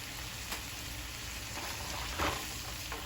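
Grits cakes sizzle steadily in a frying pan, a constant crackling hiss with a brief scrape and clatter as one is flipped near the end.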